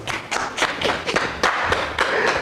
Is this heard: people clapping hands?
yes